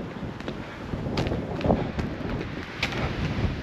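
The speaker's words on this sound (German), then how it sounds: "Ja, der Wind pfeift jetzt doch echt stark hier." Strong wind gusting across an Alpine summit near the Lachenspitze in the Tannheimer Tal, a steady broadband rush buffeting the microphone with slight surges, no voices.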